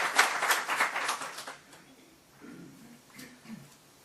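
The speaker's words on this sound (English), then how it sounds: "Let us welcome Ambassador Kim with warmest applause." A conference audience gives brief applause to welcome an ambassador; a burst of close, scattered clapping fades out within about a second and a half, followed by a quiet voice.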